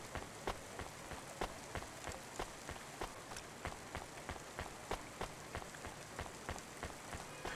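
Rain falls in the video game Cloudpunk, a quiet, steady hiss under regular soft tapping beats that keep an even rhythm throughout.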